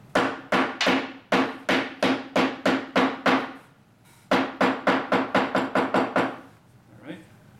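A hammer pounds a tablet into powder, delivering a run of sharp, loud, evenly spaced blows, then a brief pause and another quicker series of strikes, close up and alone.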